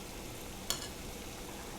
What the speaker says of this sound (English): So keep spilling the oil like that, hot oil over your karanjis like that.